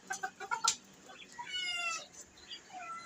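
Chickens and quails kept on separate tiers of a multi-level cage give short clucks and chirpy calls, several in quick succession early on, then thinner, higher calls, fairly close with no talk.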